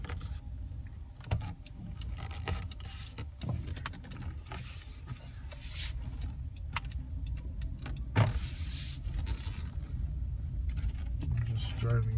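Inside a 2017 Honda Accord Hybrid Touring driving slowly, a constant low cabin rumble and road hum carry on, broken by occasional soft clicks and rattles.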